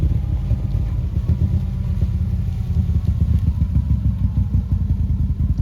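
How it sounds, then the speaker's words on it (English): A Can-Am Renegade 1000 ATV engine-brakes in low range on a downhill, giving a steady, close, loud low rumble with rapid clattering pulses and no talking. "Excellent engine braking"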